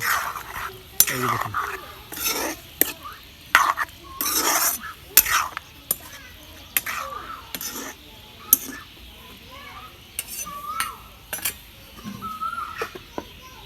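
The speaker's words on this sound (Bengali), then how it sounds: "এই যে তরকারিটা কষাইব দেখেন" Boal fish curry being stir-fried in a pan with a metal spatula, repeated sharp scraping and clanking strokes in an uneven rhythm over a faint sizzle, with background voices.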